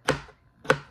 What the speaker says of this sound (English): You can do a sawing motion, chopping.